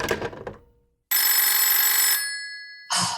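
An old-fashioned telephone bell rings loud and near, one long jangling ring of about a second and a half, then a short burst as it starts again, coming after a brief clatter.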